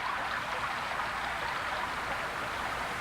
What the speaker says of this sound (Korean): 가느다란 비가 내리기 시작하더니 장대비가 되어 내리고